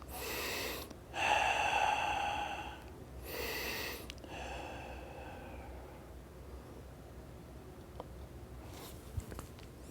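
Heavy breaths and snorting exhales during a band fitness stretching workout, several loud bursts in the first four seconds, then quieter breathing fading out.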